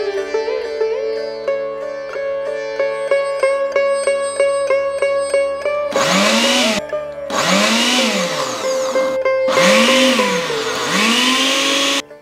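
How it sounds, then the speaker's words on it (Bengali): A kitchen mixer grinder whirs in three loud bursts grinding chunks of cauliflower, each run starting with a rising motor pitch and separated by short pauses, following a stretch of steady tonal hum. "চলুন ফুলকপি বেটে নিই।"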